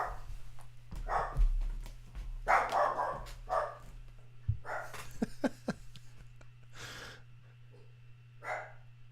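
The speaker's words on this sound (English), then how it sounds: "Dog barking." A pet dog barks in short bursts indoors during a morning talk show setup, several sharp barks spread across the clip over a steady low electrical hum.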